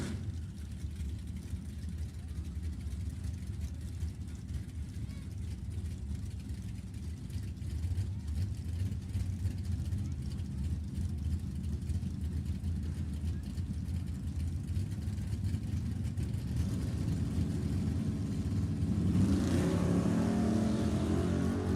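Drag car launching down the strip at Sacramento Raceway Park during Summit ET bracket racing, a steady low engine roar that swells and rises in pitch near the end as the car pulls away, heard at a distance with no talk over it.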